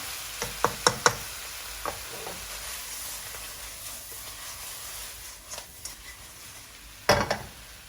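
Sichuan spicy shrimp with garlic stir-fried in a wok: a constant sizzle under quick spatula knocks, clustered in the first second and again near the end, close and crisp.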